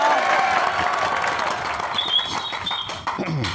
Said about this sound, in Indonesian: Kita sambut nama beliau yaitu Saudara Bapak Muhammad Ihsan. Tepuk tangan dong.